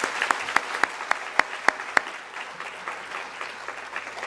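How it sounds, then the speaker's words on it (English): Audience applause follows a student strings performance at a school information night, opening with several sharp, close individual claps before settling into a softer, sustained round of clapping from the room. "Could I get another warm round of applause for them?"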